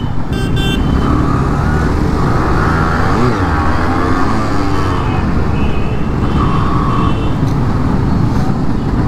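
Motorcycles ride along a highway in a Republic Day bike rally of more than forty riders, with continuous loud engine and road rumble close by and a few horn toots over the traffic noise.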